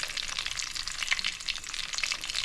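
Alu vadi, rolled colocasia-leaf fritters, fry in hot oil with a dense, crackling sizzle that pops and spits continuously at close range. No talk.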